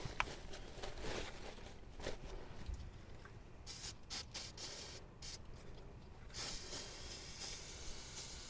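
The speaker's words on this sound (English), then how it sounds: "Clean this off with some brake cleaner." Brake cleaner sprays onto front disc brake parts in close, hissing bursts, with a continuous aerosol hiss broken by short gaps and a few brief pauses before spraying resumes, alone and moderately loud.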